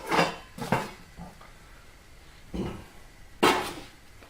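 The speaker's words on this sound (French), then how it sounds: "ça c'est la vaisselle qui tombe" Dishes clatter in a home kitchen while bread is being baked: a handful of sharp crockery and metal clanks arrive in irregular bursts, with quiet gaps between them and no voices.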